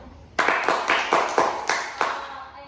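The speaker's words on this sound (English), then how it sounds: "let's give a round of applause to everyone." A classroom of students claps together in six distinct, evenly spaced rhythmic beats, close and fairly loud, each clap ringing briefly before the next.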